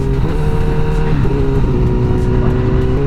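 Honda CBR1000RR superbike from 2019, rebuilt after a wreck, accelerating hard through quick-shifter gear changes, a loud steady engine drone with brief dips at each shift, heard close and alone.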